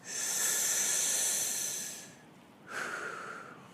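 Deep breathing in during a guided grounding exercise: a long, close, airy inhale lasting about two seconds, a brief pause, then a second softer breath, with no talking.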